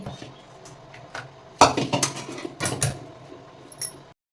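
Cooked potato mixture scraped from a pan onto an oiled plate, with a few sharp metallic clinks and clatters of a spoon against cookware, preceded by quieter handling.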